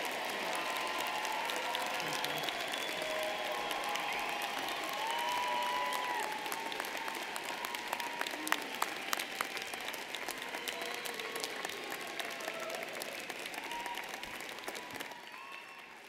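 A commencement audience applauds Masters of Education graduates at a spring university ceremony, steady distant clapping that holds for about sixteen seconds, fairly soft and reverberant, with a few louder claps standing out.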